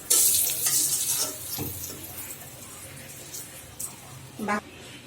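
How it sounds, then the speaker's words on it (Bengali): Coated ash gourd slices fry in a small amount of oil with a soft sizzle and the scrape of stirring. The sound is louder at the start, then fades to a quieter fry with a few utensil knocks. "এটা খেতে অনেক সুস্বাদু হয়, আপনারা এইভাবে ভাজবেন।"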